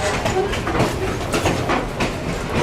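A passenger train rolls along the rails, the steady rumble and rhythmic clickety-clack of the car heard from inside, loud and continuous.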